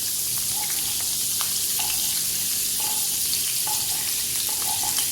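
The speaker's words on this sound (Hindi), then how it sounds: "मक्खन को हमने थोड़ा सा मेल्ट करना है। आपने फ्लेम को लो पे रखना है।" Butter melts in oil in a pan over a low flame, making a steady, even hiss with a few faint metallic clinks over about five seconds. Nobody speaks.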